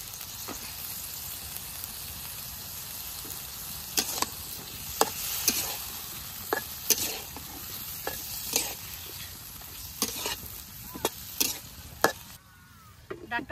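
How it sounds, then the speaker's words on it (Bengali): Cauliflower and broad beans are stir-fried in a spiced masala of coriander powder and salt, a steady close sizzle broken by repeated sharp scrapes and knocks of a spatula against the pan, with no talking. "মশলাটা ভালোভাবে কষে নিছি, এখন দিয়ে দিই মুকাইটা ধুয়ে রাখা ফুলকপি আর সিম"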